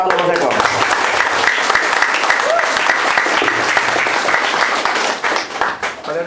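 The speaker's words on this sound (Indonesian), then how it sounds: "Tepuk tangan untuk Mas Eko." Loud, dense applause from an audience at a stop-smoking therapy session, sustained for several seconds before thinning out at the end.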